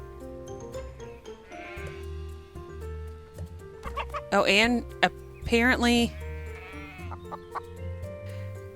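Sheep bleat loudly in a couple of drawn-out, wavering calls close by, mixed with clucking chickens and people chatting in a farmyard by a fence.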